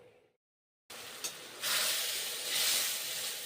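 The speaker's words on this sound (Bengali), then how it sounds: "তারপর পোস্তগুলো এখন দিয়েছি গরম কড়াইয়ে, গরম তেলে জল দিলাম" Water poured into hot oil holding ground poppy seed paste in a kadai hisses and sizzles loudly after a brief silence, swelling into a sustained steamy roar that surges again toward the end.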